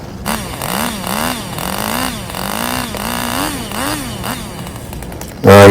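A Stihl 881 chainsaw with a 30-inch bar saws into a big oak log, its loud engine rising and falling in a steady rhythm of strokes before a sharp jump in loudness at the end.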